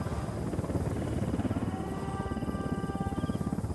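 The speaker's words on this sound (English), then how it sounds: "Helicopter incoming." A helicopter approaches in the video game Ghost Recon Wildlands, its rotor producing a loud, steady rapid chopping thump that grows slightly stronger and continues throughout.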